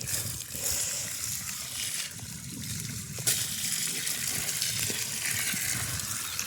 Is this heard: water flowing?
yes